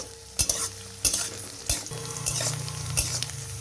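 Onions half-fried in a pan give a continuous close sizzle broken by several sharp scrapes and clinks of a spatula stirring at roughly even intervals, no speech.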